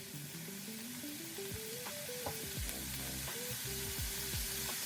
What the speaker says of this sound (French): je vais les faire à la poêle avec de l'huile d'olive